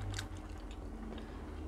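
French fries bitten and chewed close to the mic, with a couple of soft crunches early and then quieter chewing over a low background hum.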